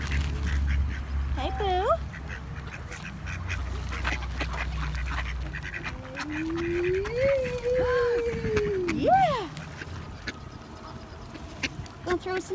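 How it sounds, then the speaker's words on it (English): Ducks quacking and geese honking outdoors while birdseed is thrown to them, loud calls rising and falling across the scene, with a person talking nearby between and over the calls. "There's ducks and there's geese."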